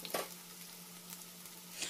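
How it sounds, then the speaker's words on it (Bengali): Grated strands of a semolina and potato bhujia mixture fry in oil with a soft, steady sizzle, faint and brief, with a light stirring touch at the start and end. "এবার অল্প অল্প করে ভেজে নেব এগুলো"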